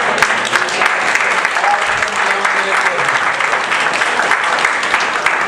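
A church congregation applauds steadily and loudly throughout, a dense wash of clapping from a large crowd with a few voices mixed in.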